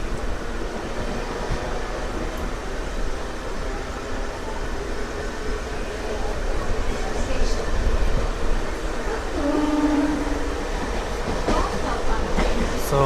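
A Tirupati to Puducherry MEMU Express train rolling fast on the main line after leaving Puttur, with a continuous loud rumble and rattle of wheels and carriages throughout, faint rhythmic clatter and a brief tonal squeal near the end.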